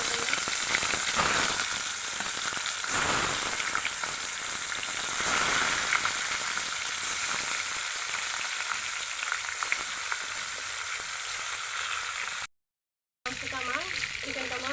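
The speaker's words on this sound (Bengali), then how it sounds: "গরম হয়ে গেছে, এখন মুরগির মাংসগুলি দিয়ে দিচ্ছি।" Chicken pieces fry in hot soybean oil in a frying pan, giving a loud, steady, close sizzle that continues throughout, broken only by a short silent gap near the end.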